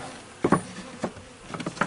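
Honey bees buzz faintly around an open top bar hive, with a few brief louder passes of individual bees close by over a low, steady background hum.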